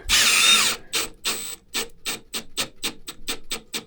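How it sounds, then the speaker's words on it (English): A Milwaukee subcompact impact driver runs a screw through sheetrock into a 2x4, starting with a brief whir and then a rapid series of about ten sharp, evenly spaced impact hammering bursts, close and loud. "We're gonna see how does this drive through sheetrock into a 2x4."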